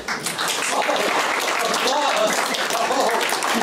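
A live audience applauds to welcome a speaker onto the stage, the clapping steady and fairly loud across the whole stretch, with some crowd voices mixed into the dense wash of hands.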